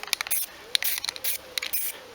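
Aerosol primer is sprayed in a light coat onto the door of a Toyota Carina E barn-find car outdoors on a windy day. Several short hissing bursts come at an uneven rhythm, fairly faint and close, with no talking.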